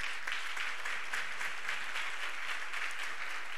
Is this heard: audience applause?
yes